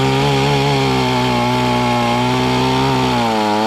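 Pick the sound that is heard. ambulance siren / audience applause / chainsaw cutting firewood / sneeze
chainsaw cutting firewood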